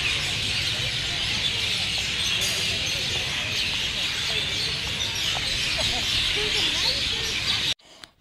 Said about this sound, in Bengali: বেলুড় মঠের এই যে সাউন্ডটা পাখির কিচিরমিচির